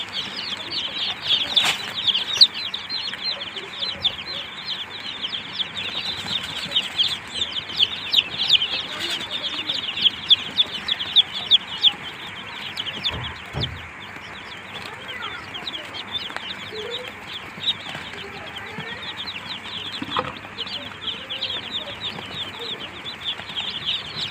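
Many newly hatched tiger chicken chicks peep continuously under a heat lamp while feeding, in a dense, high chorus with scattered pecking taps and a few louder cheeps close by.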